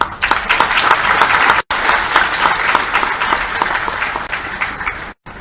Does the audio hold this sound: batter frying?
no